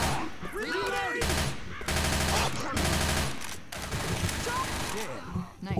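Gunfire in Left 4 Dead 2 during a Blood Harvest level, dense bursts of automatic and rapid shots filling the mix almost nonstop, with game voices calling out over the shooting.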